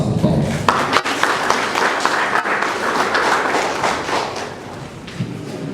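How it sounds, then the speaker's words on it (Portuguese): Applause from the audience at a municipal council workshop in Nampula, a steady, dense clapping that fills the room and holds throughout at moderate loudness, with some voices mixed in. "Uma salva de palmas."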